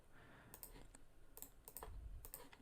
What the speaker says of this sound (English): I'm just pressing my mouse, just clicking down.